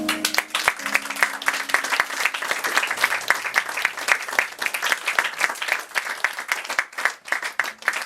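Audience applause after a poetry reading at an evening literary event, a dense, steady wash of many hands clapping at close to moderate distance, sustained throughout with no talk over it.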